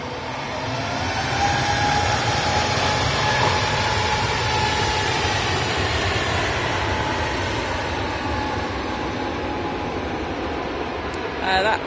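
A jet aircraft, an Airbus A320neo, roars steadily through its takeoff run from the runway at Manchester Airport, heard loud and continuous as a broad engine rumble from start to finish, with voices talking over it.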